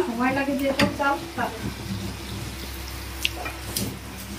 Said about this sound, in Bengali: দেখো আমরা এখন মালপোয়া ভাজছি